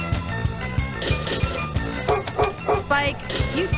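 A dog barks repeatedly in a video game, sharp yaps in a quick string close up, layered over a steady musical loop while someone talks.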